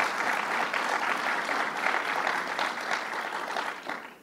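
A crowd at an event with Governor Cuomo gives a steady round of applause for Nassau County Executive Laura Curran, moderately distant clapping that holds evenly and tapers off at the end.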